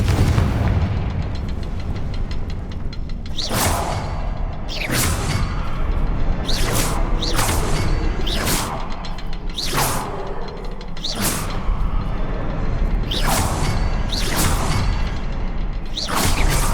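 Bombarda and Confringo spells from Hogwarts Legacy go off in a steady series of loud, heavy booms, each with a sharp whooshing burst, about a dozen blasts spaced a second or two apart with no talk.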